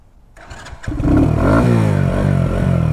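A Shineray Worker Cross 150 motorcycle engine cranks and catches, then settles into a loud, steady idle with a rapid pulsing rhythm.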